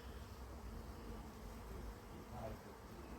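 Honey bee drones leave a backyard hive, a soft continuous buzzing hum heard up close and faint, with no talking over it.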